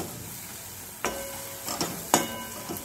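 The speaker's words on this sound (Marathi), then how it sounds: "तो टाकूया आणि छान प्रकारे असं मिक्स करून घेऊया" A spoon stirs chole masala in a pan, giving a quiet, steady sizzle broken by a few sharp scraping strokes against the pan, spaced unevenly and close by.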